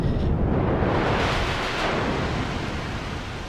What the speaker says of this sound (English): explosion noise